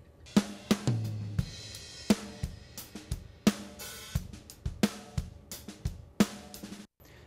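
A drum kit run through an LTD2 compressor plays a loose groove with a slightly squeezed, evened-out sound, kick and snare hits regular and cymbal wash sustaining between beats.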